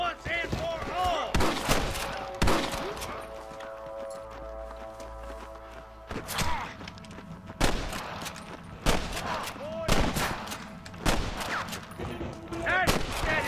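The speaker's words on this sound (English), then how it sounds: "I can hear more gunshots." Gunfire in the video game Red Dead Redemption, repeated loud sharp shots in irregular bursts amid galloping hooves and a steady musical drone.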